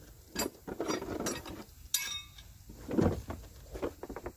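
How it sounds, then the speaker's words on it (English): A front brake caliper on a Nissan Maxima is pressed back with an old brake tool kit, giving close metallic clicks, ratcheting and clunks in irregular bursts, with no talking. "Now we have to compress the caliper."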